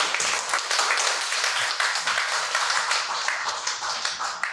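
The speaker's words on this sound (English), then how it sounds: "The applause." Sustained audience applause fills the room after a startup talk, dense overlapping clapping holding steady at moderate loudness throughout with no voices over it.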